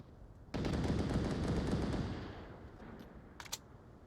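Gunfire in a shooter video game match: a dense, loud burst of rapid shots rolls on for about a second and a half, tails off, then a couple of sharp isolated cracks follow.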